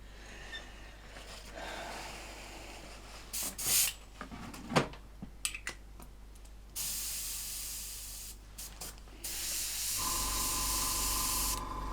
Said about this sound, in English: all I need to do is just spray enough of the area around the exhaust so that I can easily mask the whole thing